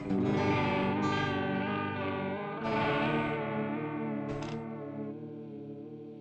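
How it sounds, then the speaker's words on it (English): Electric guitar chords ring out through a lush, shimmering chorus effect from a DIY-built chorus pedal, sustained and warbling with a slight gritty edge, no talking. "So the chorus is on and it sounds like"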